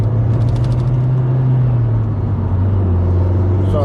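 A Toyota Yaris engine hums low and steady from inside the cabin, holding a constant drone with a slight dip in pitch rather than a strong rev-up, fairly loud and without talk.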